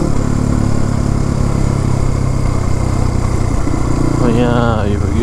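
Scooters and motorbikes race along a mountain road at Sarangkot, their engines a steady near rumble throughout, with a rising whine toward the end.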